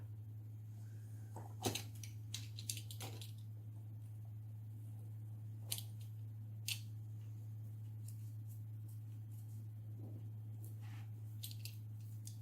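Scissors trim excess tape on a handmade mini album. A few faint, scattered snips and crinkles sound close by over a steady low electrical hum.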